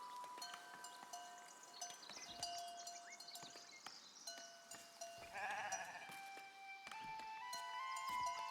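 Faint sheep bleats in the medieval village-building game Foundation, scattered calls from pastoral livestock set low under soft ambient game music and small interface tones.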